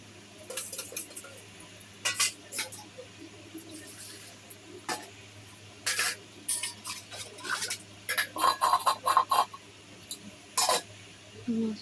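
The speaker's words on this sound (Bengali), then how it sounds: "যে চাল ঢেলে নিচ্ছি" Dry rice grains poured into a cooking pot in a home kitchen, heard as repeated short rattling, hissing bursts of grains striking metal over several seconds, close and moderately loud, with faint background hum.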